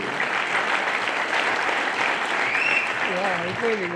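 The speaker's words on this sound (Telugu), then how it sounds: "గట్టిగా చప్పట్లు కొట్టండి" Audience applause fills a prize-giving event hall, a dense steady roar of clapping from many hands, with a voice briefly audible over it near the end.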